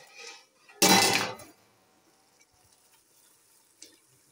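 Water drained off soaked potatoes for a biryani, heard as one short, close gush of pouring and splashing, followed by near silence and a faint clink.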